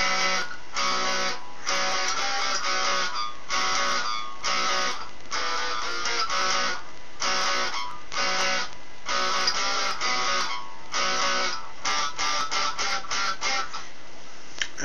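Guitar playing the second part of the chorus of a song, with bright repeated strummed chords in short bursts and brief gaps, steady and close throughout with no talking.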